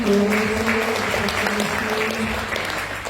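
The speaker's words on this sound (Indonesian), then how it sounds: "Mari kita beri tepuk tangan." An audience applauding after a talk on puberty and parenting, steady dense clapping filling the room for a few seconds, with a faint voice underneath.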